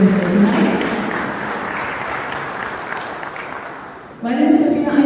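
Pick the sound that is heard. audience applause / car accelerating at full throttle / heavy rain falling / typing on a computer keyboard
audience applause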